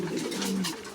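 Fancy and racing pigeons coo close by, a low throaty rolling coo that lasts about a second.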